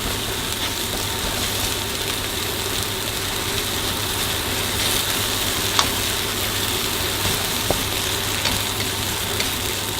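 Dried shrimp chili paste frying in a pan for nasi goreng, giving a constant broad sizzle over a low steady hum, with a few faint clicks, and no one talking.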